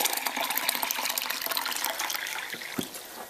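Tap water runs steadily into a 4-cup measuring cup while making squash soup, a continuous close splashing rush with a brief louder gurgle near the end, no talking.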